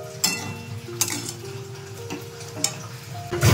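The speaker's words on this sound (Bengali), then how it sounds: "এটা দিয়ে কিন্তু ভালো করে পুরো নাড়াচাড়া করে নিতে হবে" A utensil scrapes and clinks against a pan while sheem (flat bean) curry with mustard is stirred, a few distinct knocks over a low sizzle, close and fairly loud.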